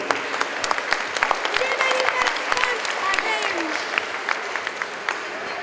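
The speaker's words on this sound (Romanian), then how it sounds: "cred că merită mai multe aplauze" Lively audience applause for the youngest girl competitors at an awards ceremony, dense clapping from a crowd of coaches and spectators, loud and close with sharp individual claps standing out.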